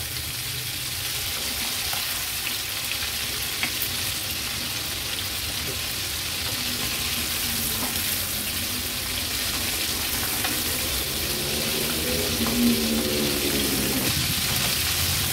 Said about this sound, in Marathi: मीडियम फ्लेमवरच अगदी व्यवस्थित त्या फ्राय होतात